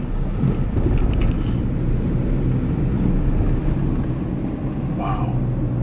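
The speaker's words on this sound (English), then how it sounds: "right now we're driving an hour to the southern part of the Seychelles" A car drives along a road in the Seychelles, giving a steady close rumble of engine and road noise from inside the vehicle, with brief faint clicks and a short higher sound near the end.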